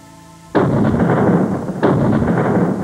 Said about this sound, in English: As Nelson attacked Calvi, a vigorous artillery duel was underway.